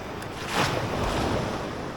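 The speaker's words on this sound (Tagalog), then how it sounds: "Anong alon to? Lakas." Strong ocean waves break against the shore during shorecasting, a broad rushing wash that swells midway and then trails off, with wind buffeting the microphone.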